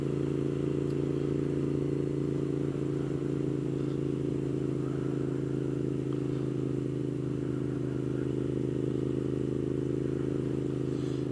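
A 2015 Moto Guzzi V7 mk2 750cc motorcycle is ridden on the road, its engine a steady low droning rumble mixed with wind noise, holding an even note throughout.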